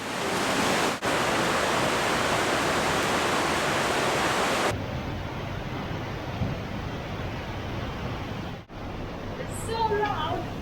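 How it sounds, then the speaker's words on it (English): Loud, steady roar of water rushing through the narrow, dripping Höllentalklamm gorge in the Alps, a dense broadband wash that carries on for the whole stretch with a brief dip near the end. "It's so loud. The force of the water."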